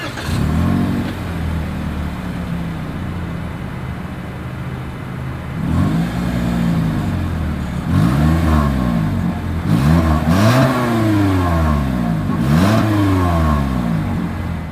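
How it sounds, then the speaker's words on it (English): A 2023 Toyota Corolla's exhaust idling, then several sharp revs that climb and fall back, loud and close, with rain hissing faintly behind. "here is that exhaust clip"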